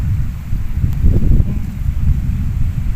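Steady wind at a beach rumbles and buffets the microphone in a continuous low roar, with no voices.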